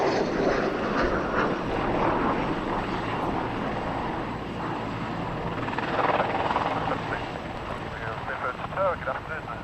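Military aircraft moving on the ground at the Royal International Air Tattoo airshow, a steady engine roar and propeller drone heard at a distance under wind noise, with voices talking over it.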